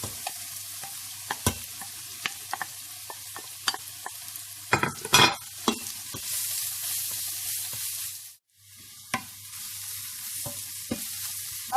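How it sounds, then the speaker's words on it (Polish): Carrots sizzle steadily in a hot pan while a utensil scrapes and clacks against it again and again. "I ładnie trzeba to wszystko obsmażyć"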